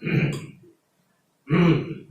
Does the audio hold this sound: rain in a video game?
no